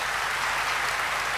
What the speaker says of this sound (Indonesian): tepuk tangan dulu dong buat Pak Jarod